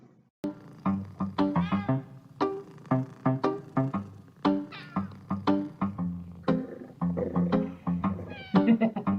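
A cat meows repeatedly in short, rhythmic bursts within a song, close and clear, each call brief and nasal, continuing steadily over several seconds.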